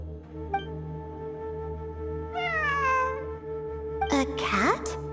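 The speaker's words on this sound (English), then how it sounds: "It really is a cat." A cat meows in the Genshin Impact video game, with a few short calls and then a longer rising and falling meow over a steady ambient drone. Sharp game sound effects break in near the end.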